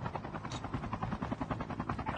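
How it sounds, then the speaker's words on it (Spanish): A helicopter passes overhead in the Call of Duty Mobile video game, giving a steady chopping rotor drone that fills the whole moment at moderate loudness. "Pasa un helicóptero por ahí ya."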